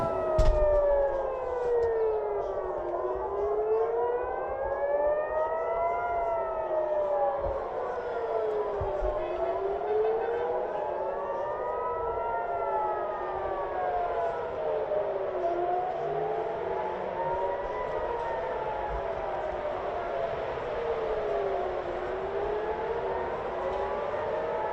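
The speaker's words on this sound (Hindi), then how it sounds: "इसके अलावा पूरे तेल अवीव में सायरन बज रहे हैं।" Air raid sirens wail across Tel Aviv, several overlapping tones rising and falling in long, steady cycles. They sound loud and continuous from start to finish, with a faint background hum beneath them.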